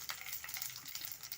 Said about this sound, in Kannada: ಈಗ ಆಯಿಲ್ ಬಿಸಿ ಆಗಿದೆ. ಇದಕ್ಕೆ ನಾನು ಸ್ವಲ್ಪ ಸಾಸಿವೆನ ಸೇರಿಸ್ಕೊಳ್ತಾ ಇದ್ದೀನಿ